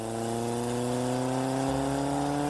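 A motorcycle engine drones steadily and rises gently in pitch as it picks up speed, close and continuous with no voices.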